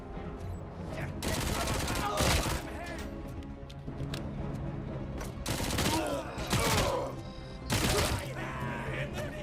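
Bursts of gunfire from the video game RoboCop: Rogue City come in loud rapid volleys separated by short pauses, with faint game sounds in between.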